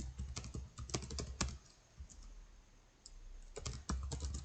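A command is typed on a computer keyboard, quick bursts of close, crisp key clicks with a pause in the middle, quiet and without talking.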